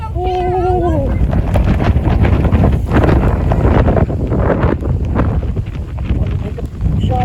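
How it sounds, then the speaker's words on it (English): Cold, breezy wind blows outdoors at a boat launch, roaring as loud, steady microphone buffeting across the whole clip, while a person talks and makes brief vocal sounds over it. "It's cold and breezy out here."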